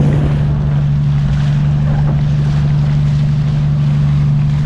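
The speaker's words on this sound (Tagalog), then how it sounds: "Malaki na ang alon. Mas malakas ang alon mamaya doon sa palabasan." A fishing boat on Taal Lake runs through large waves, its engine a loud steady drone with constant wind and water rush around it, close and continuous.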